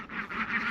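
Ducks, including khaki Campbells, in outdoor poultry pens giving a quick series of nasal quacks, close and clear with no talking.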